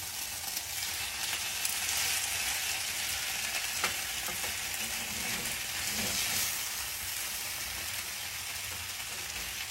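Chicken gizzards frying slowly in oil in a pan, giving a steady, close sizzle and crackle that runs unbroken throughout with faint stirring touches and no talking.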